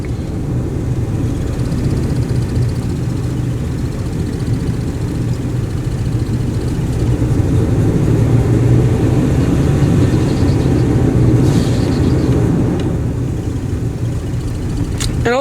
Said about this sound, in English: Her idle is extremely rough, as you see the steering wheel shaking.